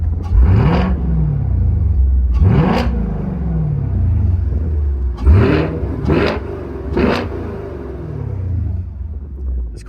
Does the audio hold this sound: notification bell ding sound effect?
no